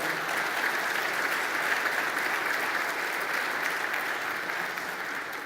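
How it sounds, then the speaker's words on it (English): Sustained applause from the audience at a business forum panel session, steady dense clapping from a large crowd that runs throughout and eases off slightly toward the end. "Nice round of applause for our panelists here and those on the floor."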